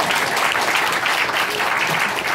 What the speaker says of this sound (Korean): 그러면 박수를 한 번 더 쳐주세요.